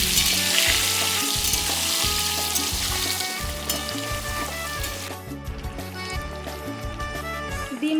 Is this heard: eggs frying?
yes